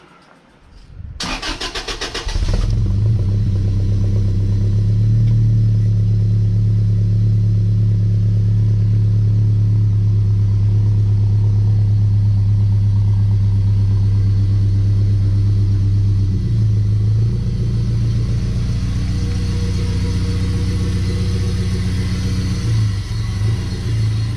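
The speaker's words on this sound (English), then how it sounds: "let me move out the truck first" A Toyota 4Runner truck on BFG KO2 33-inch tires cranks over and starts, then settles into a loud, steady, close engine rumble at idle, with slight revving changes as it is moved.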